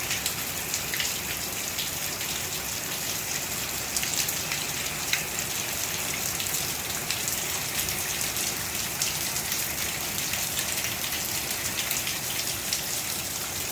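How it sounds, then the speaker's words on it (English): Steady heavy rain pours down, a dense continuous hiss of drops drumming on surfaces, with no pauses or voices. "We've had some really heavy rain, and this is last night's rain."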